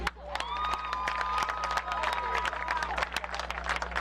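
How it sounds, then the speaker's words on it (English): A crowd at a high school football game applauds and cheers, with clapping and scattered shouts over a steady hum, while a public-address announcer's voice carries on over it. "And now one more round of applause for all of our seniors in the football program."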